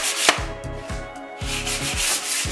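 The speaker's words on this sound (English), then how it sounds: "sand them down a bit, or deburr them as some people would call it" Sandpaper rubs back and forth over the sharp edges of a hardwood workbench in quick rhythmic strokes, about eight close, gritty scrapes in a short burst with no voices.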